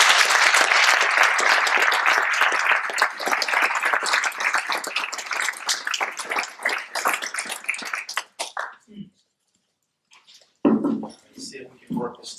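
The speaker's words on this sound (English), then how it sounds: "Please join us in giving a warm welcome and round of applause for our guest speaker and fellow alum" An audience at a lecture claps to welcome a guest speaker, a dense, loud burst of applause that thins into scattered claps and dies away, followed by a short pause and a few close sounds.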